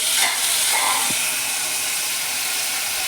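Tomatoes fried and stirred in a pan while making drumstick-leaf sambar, giving a steady close sizzling hiss throughout with a brief scrape of stirring.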